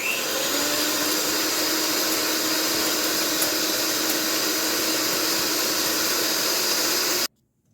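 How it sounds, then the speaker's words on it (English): An electric hand mixer whips two egg whites for carrot cupcakes, a loud, steady whirring drone running continuously before cutting off abruptly near the end. "Now I'm going to beat my egg whites in here, my 2 egg whites."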